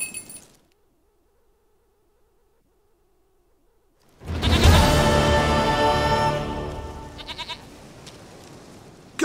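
A goat bleats loudly and close in The Witcher 3, a long wavering cry that begins after a near-silent stretch with a faint low hum, then trails off into fainter bleating.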